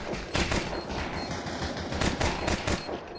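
Rapid gunfire during a Counter-Strike pistol round in a professional tournament match, dense overlapping shots in quick bursts, loud and sustained with no talk.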